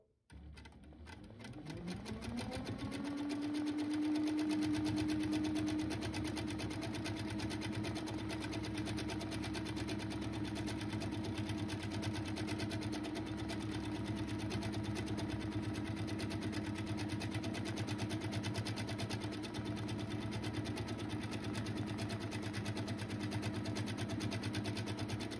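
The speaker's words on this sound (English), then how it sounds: "let's go ahead and stitch that out" A sewing machine runs steadily while free-motion stitching a paisley path on a quilting practice panel. It makes a continuous, even motor whir for about 25 seconds, close and moderately loud, with no talking.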